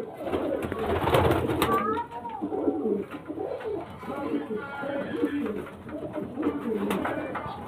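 Breeding pigeons in a loft coo in low, throaty, rolling calls, several overlapping birds close by, with a faint voice in the background.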